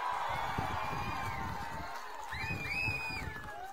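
Large outdoor crowd at a political public meeting in Undi, cheering and shouting with dense clapping, steady and loud throughout, with a few whistles or whoops rising near the end.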